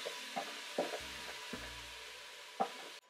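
Seasoning is stirred into a quietly sizzling pan for a vegan Caribbean stew, with a few soft scraping strokes over a low, steady fry.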